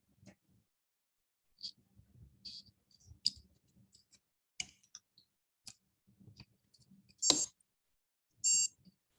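SkeeterSat electronics kit circuit beeping right after its battery is installed: two short, sharp electronic beeps near the end, preceded by faint clicks and handling noises in a quiet room.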